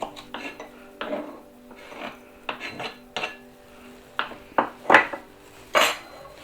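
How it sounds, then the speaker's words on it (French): A knife chops peppers into small pieces on a board, giving a string of sharp, irregular taps and thuds that grow crisper and louder toward the end, with no voices. "grossièrement, hein, on les coupe comme ça en petits morceaux"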